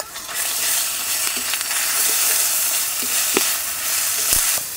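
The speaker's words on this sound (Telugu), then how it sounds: "ఉల్లిపాయలు కొంచెం వేగాక పచ్చిమిర్చి కరివేపాకు కూడా వేసుకుని బాగా కలుపుకుందాం." Onions, green chillies and curry leaves fry in a pan with ginger garlic paste, a steady dense sizzle with occasional spoon scrapes and clicks as the mixture is stirred, close and alone without talk.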